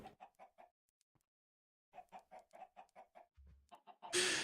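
Minecraft chickens cluck in quick repeated bursts, pausing briefly before a longer run of clucks, ending in a sudden loud burst of noise.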